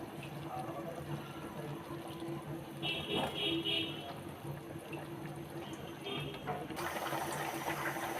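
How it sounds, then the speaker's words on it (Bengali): Broth pours into a cauliflower, bean and potato curry with a soft, steady liquid splash and gurgle, close by and fairly quiet, ending in a louder rush. "এখন আমি ঝোল দিয়ে দিব"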